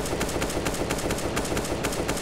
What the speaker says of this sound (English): USPs bring the bang